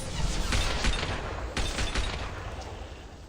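Gunfire with incendiary rounds in Mass Effect 2, dense, loud automatic bursts with sharp shot peaks that run without a break over a rumbling wash, with no talking.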